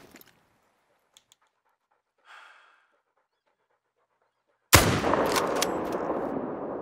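A rifle shot at a fallow deer in theHunter: Call of the Wild cracks once, loud and sudden after near silence, followed by a long rolling echo that fades slowly.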